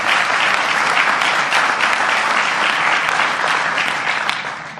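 Sustained applause from an audience at a press event with Prime Minister Justin Trudeau, steady dense clapping filling the space for several seconds before tapering slightly at the end.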